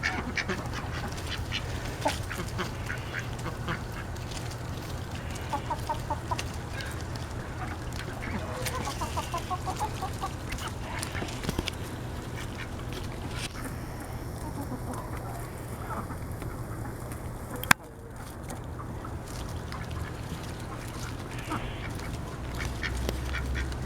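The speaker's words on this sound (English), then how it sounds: "gave them to the chickens and the ducks and the turkeys" A mixed backyard flock of ducks, chickens and turkeys pecks at pulled chard, with busy quacking and clucking throughout, plus a sudden sharp knock near the end; continuous farmyard chatter close by.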